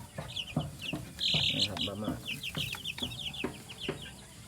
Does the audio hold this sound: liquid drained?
no